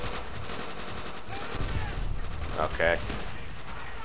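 Short bursts of gunfire in Call of Duty: World at War sound amid game noise, with a brief spoken word from a player.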